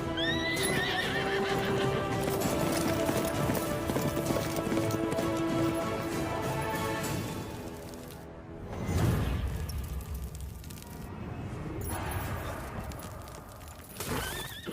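A horse neighs loudly and gallops in a film scene, shrill whinnies over rapid hoofbeats, then rushing movement and further thuds without speech.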